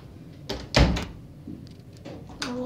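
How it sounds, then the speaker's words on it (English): Door being shut in a video game: a muffled thunk and knock of the door closing, with a few softer bumps and shuffles around it, fairly close and without talk. "Lock the door."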